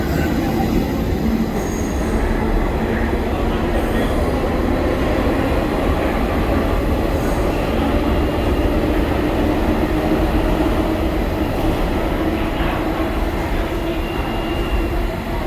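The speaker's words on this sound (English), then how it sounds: "I'm riding the subway from 34th Street, Penn Station." Loud, constant rumble of a New York City subway train in motion from 34th Street–Penn Station, with rattling cars and faint wheel squeals running the whole time.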